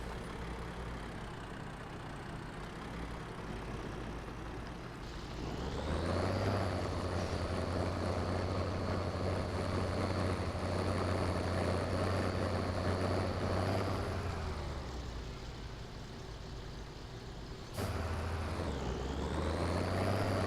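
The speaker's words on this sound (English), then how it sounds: "So we're going to hop in a little international here. And we'll do a little tedding." International tractor doing hay tedding in Farming Simulator 17, a steady low engine drone that swells as revs climb around five seconds, holds, eases off near fifteen seconds, then jumps back up, with no talking.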